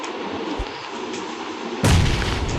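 Gunfire in a mobile battle-royale shooter game, a loud burst of shots erupting near the end after a steady background din, with no talking.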